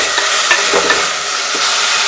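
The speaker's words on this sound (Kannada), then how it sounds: "ಇದನ್ನು 2 ನಿಮಿಷ ಈ ರೀತಿ ಫ್ರೈ ಮಾಡಿಕೊಂಡು" Finely chopped tender bamboo shoots stir-fried for a Malnad-style curry, a steady loud sizzle with repeated spatula scrapes close up and no one talking.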